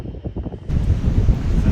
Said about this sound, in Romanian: A venit furtuna pe apă. Vântul nu ne mai dă pace